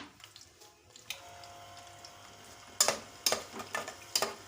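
Chopped onions and garlic sautéed in about a cup of oil for Lahori-style chickpeas, a faint steady sizzle with soft stirring scrapes and a few sharper clatters of the spoon against the pan.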